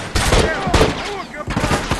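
Gunfire in The Last of Us during an online private match, a few quick bursts of shots mixed in with players talking over voice chat.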